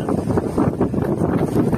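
Strong wind buffets a fishing boat at sea as a storm builds, a steady loud rushing roar with gusty swells that fills the whole stretch, close to the microphone and with no clear voices over it.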